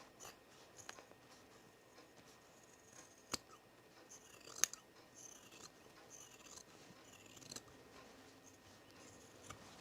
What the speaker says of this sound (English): I'm gonna trim this down a little bit